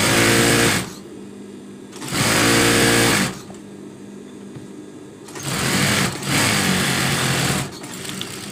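Sewing machine running in three bursts while stitching around the edge of a silk king-size bedsheet, each loud mechanical whir lasting about a second or two with quieter pauses between, no talk over it.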